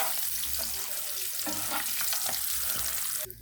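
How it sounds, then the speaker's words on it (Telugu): Eggs frying in a pan for a simple egg curry give a steady, fairly soft sizzle with light stirring and bubbling, ending on a brief sharper clatter, and no one speaks. "గుడ్లన్నీ వేసుకోవాలి కొంచెం ఫ్రై అయితే చాలు"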